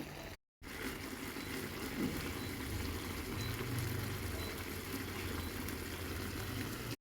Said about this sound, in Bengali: ভালো করে কষানোর পর অল্প জল দিয়ে একটু ফুটিয়ে নিতে হবে